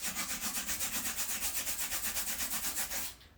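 Sandpaper rubbed by finger inside the bolt holes of a toilet during a leak repair, a close, rhythmic back-and-forth scratching of about a dozen quick strokes that stops abruptly near the end.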